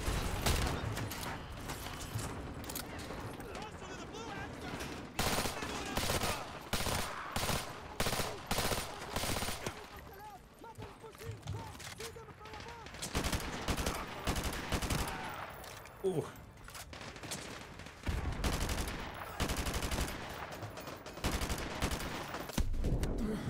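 Video game gunfire in the Modern Warfare 2 Campaign Remastered, dense automatic bursts rattling in rapid clusters with short lulls, loud and close throughout.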